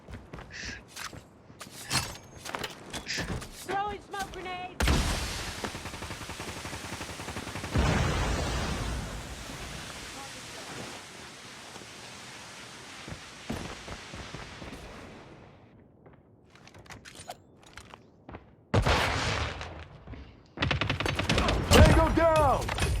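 Shotgun fire in the mobile shooter Call of Duty Mobile during a Search and Destroy match: sharp blasts and bursts of gunfire, with a long noisy stretch midway and quieter clicks and footsteps between shots.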